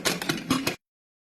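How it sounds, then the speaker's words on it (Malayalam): A pressure cooker lid is fitted and shut over jackfruit cooking in salted water, giving a short burst of metallic clatter and a few close clicks lasting under a second, then silence. "ഇനി നമുക്ക് കുക്കറിന്റെ മൂടി അടയ്ക്കാം."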